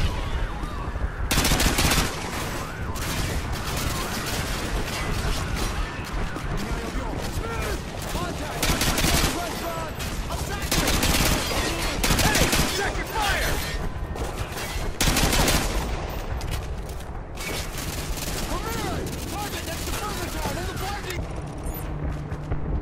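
Sustained gunfire and heavy bursts from the Call of Duty Modern Warfare 2 campaign run through the whole stretch, loud and dense, with voices calling out over the shooting.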